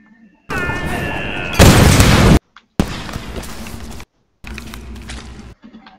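Gunfire and explosions ring out in the Tomb Raider video game, loud and close, with a heavy booming burst and abrupt cuts between sections, alongside voices shouting.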